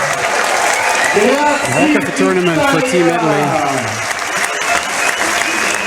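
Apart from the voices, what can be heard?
stadium standing ovation for Team Italy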